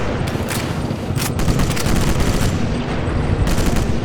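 Dense, continuous gunfire with rapid bursts and grenade booms in the video game Sniper Elite 4, loud and close, like an intense firefight with no pauses.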